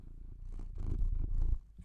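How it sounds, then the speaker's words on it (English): A domestic cat purrs close to the microphone, a low rhythmic rumble that swells and fades over a couple of breaths, with no talk over it. "Listen to that purr."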